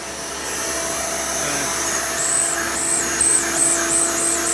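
A Hoover Elite 350 upright vacuum cleaner runs steadily with suction, producing a loud, constant whirring motor drone that rises slightly in pitch partway through.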